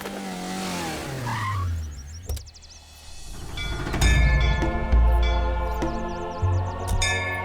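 A car skids and brakes hard with tire squeal over a dramatic film score, its engine rumbling low as it comes to a stop on a road near a village temple town.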